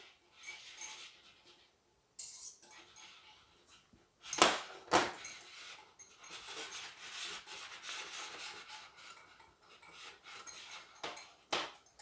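A utensil scraping and rubbing rapidly in a bowl while hot sour cream and lemon mixture is stirred into egg yolks, in irregular bursts with a few sharper clinks and short pauses between.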